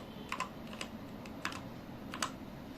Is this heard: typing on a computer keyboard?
yes